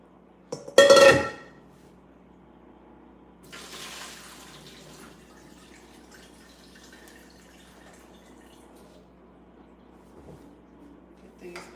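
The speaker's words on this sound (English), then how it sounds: "Put these potatoes in and just wash them off," Potatoes being washed under a running kitchen tap, with a sharp burst of water early on, then a softer steady flow of rinsing that continues to the end.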